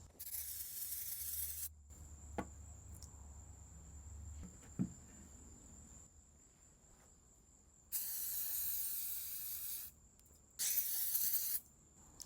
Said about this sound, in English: Now I'll clean this area a bit with brake parts cleaner.